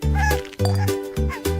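A series of loud, close meows, three or four drawn-out wailing cries in quick succession, with a strained, insistent tone.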